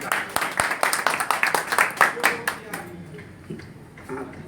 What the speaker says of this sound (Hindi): थोड़ा ताली दे मजा आए तो।